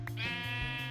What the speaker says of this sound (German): Das Schaf regt mich jetzt schon auf.